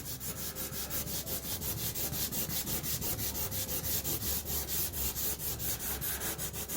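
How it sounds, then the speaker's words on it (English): Crayon rubbed back and forth on paper, blending red, orange and yellow, gives a steady rapid scratchy rhythm of close strokes that keeps going throughout with no talk. "Rub it in, left to right."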